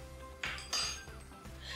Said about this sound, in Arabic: هنقلب كده كويس